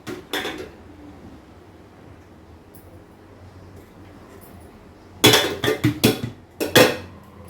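Food is served at home, rice and chowmein for children. Dishes and utensils give a brief clatter at the start, then after a quiet stretch a quick run of loud, close clinks and knocks comes near the end.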